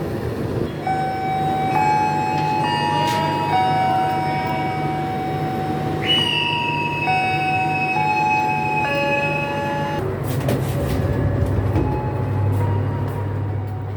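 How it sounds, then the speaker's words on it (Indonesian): The Kamandaka passenger train, hauled by CC 206 20628 locomotive, departs Cilacap station; long sustained tonal blasts shift pitch over a steady rumble, which grows heavier and noisier near the end. "Akan mengawali perjalanan kereta api Kamandaka dari Cilacap menuju Semarang"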